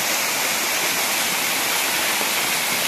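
Steady, loud rush of water flowing through Bhairav cave, broad and unbroken like a small waterfall or fast stream, continuing without pause.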